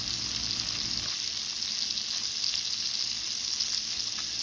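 Shrimp rubbed with butter and garlic powder sizzle steadily in a hot pan, a continuous bright crackling hiss at moderate level with no voices over it.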